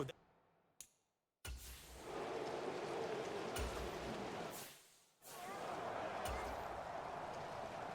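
Steady rain hisses over a football stadium in Madden NFL 23, a broad constant wash broken by brief gaps and a few sharp thuds.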